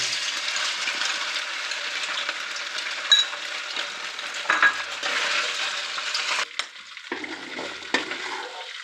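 Soy sauce marinated chicken frying in a pan for chicken pasta chow mein, a continuous sizzle with occasional stirring knocks and scrapes, fairly close.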